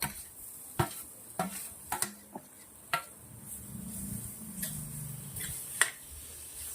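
Semolina roasting with paneer in a pan for halwa, stirred with a utensil: scattered sharp clicks and scrapes of spoon against metal pan over a low sizzle, close and moderately quiet, with no talk.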